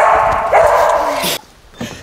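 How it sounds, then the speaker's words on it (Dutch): Dogs bark loudly at a front door as visitors ring: close, sharp yips and barks over about a second and a half, then a brief lull and another short bark. "dat zijn de honden"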